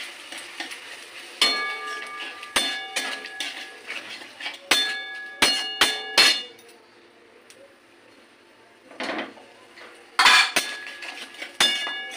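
A metal spatula clanks and rings against a pan while baby corn is stir-fried with spices, with loud bursts of scraping and clinking separated by a quieter stretch and only faint sizzling beneath.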